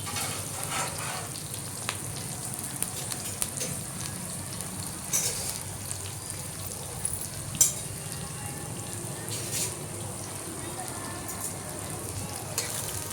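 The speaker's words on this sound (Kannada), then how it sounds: "ಚೆನ್ನಾಗಿ ಒಂದು 2-3 ನಿಮಿಷ ಗೋಲ್ಡನ್ ಬ್ರೌನ್ ಆಗೋವರೆಗೂ ಈರುಳ್ಳಿ ಚೆನ್ನಾಗಿ ಹುರ್ಕೋಬೇಕು. ಎಣ್ಣೆನಲ್ಲಿ ಫ್ರೈ ಮಾಡ್ಕೋಬೇಕು." Onions fry in oil in a pan for a North Karnataka bharda palya with curry leaves, making a steady close hiss and crackle that goes on without a break, with small stirring clicks and scrapes now and then.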